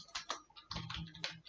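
Typing on a computer keyboard: a quick, uneven run of close key clicks, soft overall, with short gaps between bursts.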